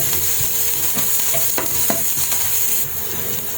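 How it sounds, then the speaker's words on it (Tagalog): A ladle stirs garlic and vegetables around a hot pan, the sizzle of frying running steadily underneath with occasional scraping strokes and clinks, close and fairly loud throughout. "Itong sandok na to sa may-ari pa ng bahay haluin lang natin ito."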